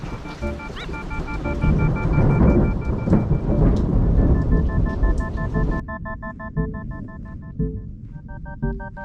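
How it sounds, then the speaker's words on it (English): Heavy rain pours down with deep rumbling thunder rolling through, while a steady high tone sounds faintly and intermittently over the downpour. "Here comes the rain."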